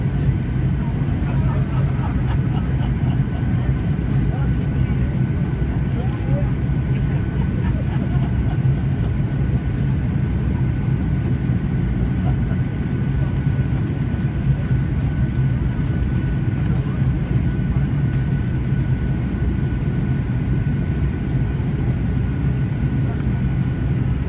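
Airliner cabin during the final approach into Orly on a flight from Bastia, with a steady, loud broadband engine and airflow roar filling the whole stretch without letup.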